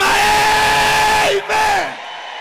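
A church congregation at the NLC Songwe conference gives a loud, sustained shout that holds for over a second, breaks off briefly, then trails away.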